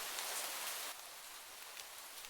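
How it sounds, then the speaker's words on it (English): Steady rain ambience from an indie video game hisses continuously as a broad, even wash of falling drops, slightly louder at first then settling to a constant level. "The background noise right now is just like rain."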